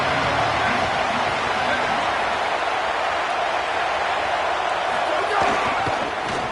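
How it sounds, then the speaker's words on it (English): A big college football crowd in Happy Valley roars steadily on third down, a dense, continuous wall of stadium noise that barely changes for several seconds. "Here comes the noise from this big crowd in Happy Valley on 3rd down."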